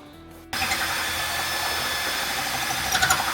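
A Makita power drill bores into pre-drilled iron. A brief quiet lead-in gives way to a sudden, steady, close mechanical whir that rises slightly near the end, with no speech.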